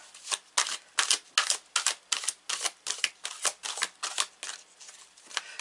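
Repeated crisp riffles of tarot cards being shuffled, coming in a steady rhythm of short bursts, close and clear with no talking.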